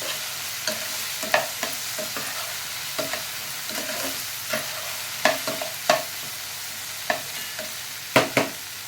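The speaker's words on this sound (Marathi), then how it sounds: "पुन्हा हाय फ्लेमवरती आपल्याला 1 मिनिट ही भाजी चांगली परतून घ्यायची आहे" Spiced okra (bhindi) is stir-fried on a high flame, giving a steady sizzle broken by repeated sharp scraping and clacking strokes of the stirring spoon, spaced irregularly and heard close with no talking.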